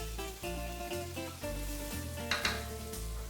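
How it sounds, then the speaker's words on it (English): Diced prosciutto and onions sauteing in a pan give a steady close sizzle, with occasional light clinks of utensil against the pan. "We're going to saute that a little bit."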